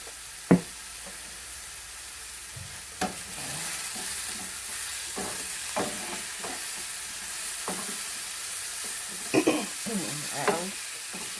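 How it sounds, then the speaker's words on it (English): Garlic with salt and pepper frying in a pan beside browned pork chops, a low, steady sizzle punctuated by scattered utensil knocks and stirring scrapes over several seconds, with no one speaking. "I'm adding my garlic and 1/4 of a teaspoon of salt"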